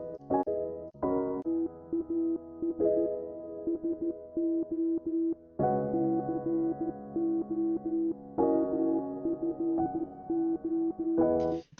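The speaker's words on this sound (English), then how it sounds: "I used a lot of Morse code" Morse code beeps run through a music track, steady electronic tones broken into short and long pulses in shifting rhythmic bursts, with pitch changes between sections and no voices.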